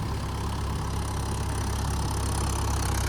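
A tractor ploughing a muddy paddy field runs with a loud, steady engine drone and dense low rumble, continuous and close, with no pauses.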